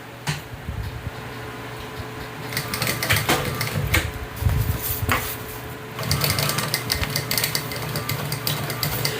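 A sewing machine bastes a hip bag at a 1/8 inch seam allowance, stitching from the lining side with rapid, close clattering that speeds up and slows in short runs, without speech.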